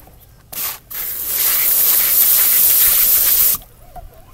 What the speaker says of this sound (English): Then we're gonna give it a spray